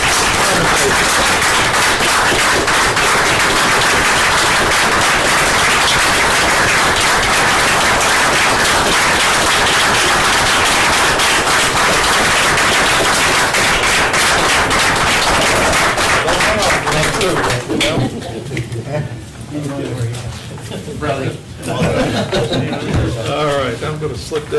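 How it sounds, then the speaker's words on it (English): Sustained, dense applause in a small-town council chamber, filling the room for a long stretch after a unanimous vote and then thinning out near the end, while scattered voices carry through it. "I think applause is appropriate for the council"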